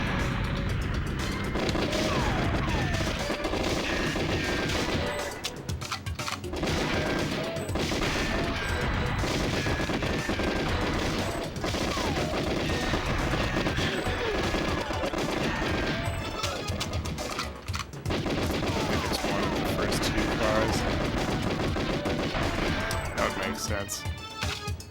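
Gunfire and boxes blowing up in the video game Goldeneye 007, dense continuous bursts of shots and crashing explosions that stay loud throughout, with a voice talking over the game at times.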